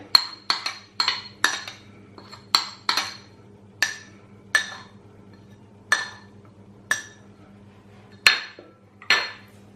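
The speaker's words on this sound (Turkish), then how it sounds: "Ve şimdi bunu Böyle kaşığım ile eze eze karıştırıyorum arkadaşlar" A metal spoon mashes and stirs kısır ingredients, grated garlic and chili flakes among them, in a bowl, giving a run of sharp clinks and scrapes, rapid at first and then spaced about once a second, close and clear over a low steady hum.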